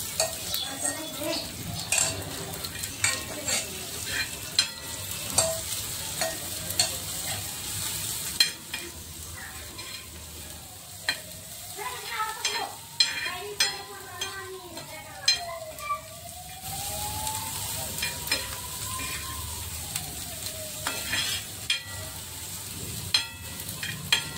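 Besan pithla cooks on a tawa griddle while a utensil scrapes and stirs it in irregular bursts over a soft sizzle, with occasional metal clinks and a faint tonal whine in the background.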